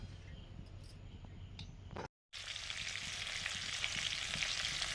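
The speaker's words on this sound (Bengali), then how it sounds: "সর্ষের তেল দিলাম। এবারে ইলিশ মাছ ভাজবো।" Hilsa fish hitting hot mustard oil after a brief cut, breaking into a loud, steady, broadband sizzle that builds and continues to the end, with quieter kitchen background before the cut.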